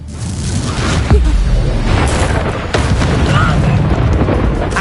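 Confringo fire spell blasts in Hogwarts Legacy, a loud, dense booming roar with sharp burst transients and whooshing fire noise filling the whole stretch.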